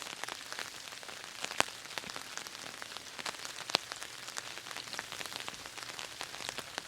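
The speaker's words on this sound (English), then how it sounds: "The rain's picking up." Steady rain patters down in a forest during an ice storm, with scattered close drops ticking sharply on a nearby surface; no voices, just a continuous soft wash of falling water.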